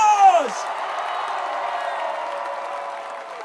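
Crowd at a basketball national championship parade cheering and clapping, a broad sustained roar that follows a brief tonal sound at the start, fairly loud and continuous.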